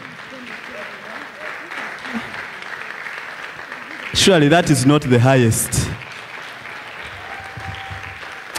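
A conference audience at the African Readers Conference 2022 bursts into loud, dense hand clapping for about two seconds, with a speaker's voice over the hall before and after.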